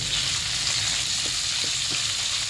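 Onion frying with garlic in a pan for pork belly steak, a steady close sizzle with faint clicks of stirring, no talk.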